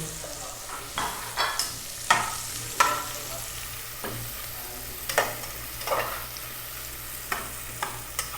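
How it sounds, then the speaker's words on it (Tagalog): Onion frying in a pan for chicken adobo, a steady soft sizzle punctuated by regular scraping stirs and utensil knocks roughly every second, nearby with no voices. "I will put the onion. Okay, and mix well."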